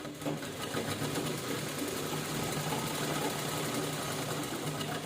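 A sewing machine stitches a two-colour purse in a continuous mechanical whir with a steady rapid needle rhythm, close and even, with no talking.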